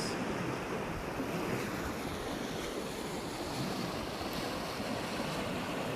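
The flooded Bual river in Sarangani province rushes past in a steady, loud, unbroken roar mixed with wind buffeting the microphone.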